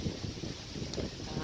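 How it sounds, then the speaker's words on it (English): Gusty wind buffets the microphone with a heavy, rumbling roar that fluctuates continuously throughout. "Sorry about the wind, it is quite windy here this morning."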